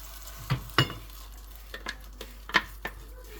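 A utensil stirs a blended, smooth mixture in a couscous pot, with a few sharp scrapes and knocks against the pot over a low steady hum, close and moderately loud.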